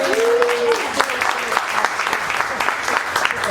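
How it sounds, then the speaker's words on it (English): Steady audience applause rolls through a members' meeting of a Tropical Audubon Society gathering, with a voice briefly audible at the start over the clapping. "A big round of applause,"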